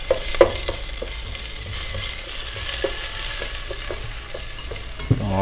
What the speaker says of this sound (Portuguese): Uma cebola que eu piquei. Uma cebola. Irei deixar aqui dar uma leve dourada.